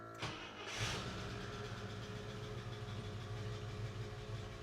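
An International Scout II engine cranks briefly and fires up, then settles into a rough, steady idle with a throbbing low rumble, close and alone.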